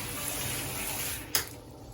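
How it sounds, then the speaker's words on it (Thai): Water runs from a tap into a home bath being filled for a Japanese-style onsen soak, a steady close rush and splash with a brief clunk near the end as the flow is shut off. "เดี๋ยวขอปิดน้ำก่อน"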